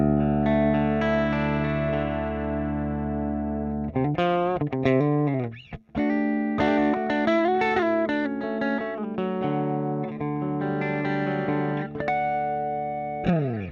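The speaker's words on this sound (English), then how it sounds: "without the pedal on, our clean tone is" Clean electric guitar rings out with a long sustained chord, then a series of picked notes and chords with a short pause midway, played alone with the MXR FOD Drive pedal off.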